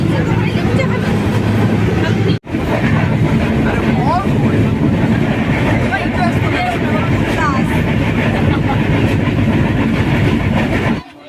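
A train rumbles along loudly and steadily, wheels rattling on the tracks, with a brief dropout partway through and a murmur of voices in the carriage.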